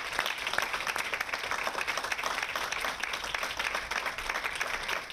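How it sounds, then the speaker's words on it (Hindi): Loud, sustained applause from a crowd at a Kargil anniversary poetry event, steady dense clapping filling the whole stretch as a guest is welcomed to the stage. "मैं चाहती हूं एक बार जोरदार तालियां हो"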